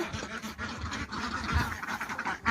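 Ducks at a duck farm quack repeatedly in a busy, overlapping chorus, fairly close and moderately loud, with no talking.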